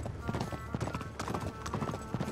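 Several horses gallop in a steady, dense run of hoofbeats in Uncharted: Drake's Deception, loud and close for the whole stretch with no talk over them.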